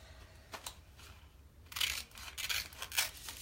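Scissors cutting out small flower shapes from a chalk transfer sheet, giving soft close snips and rustling paper bursts that grow busier toward the end, quiet and without talk.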